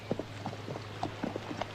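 Horses' hooves clip-clop at an uneven walking rhythm on a road, fairly quiet, with a low steady hum underneath and no talking.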